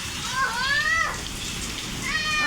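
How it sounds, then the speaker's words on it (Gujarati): Heavy rain falling during a storm, a steady, dense hiss of drops on surfaces that continues throughout, with faint high whistling tones rising over it now and then. "અત્યારે જોઈ લે આટલો બધો વરસાદ આવી ગયો"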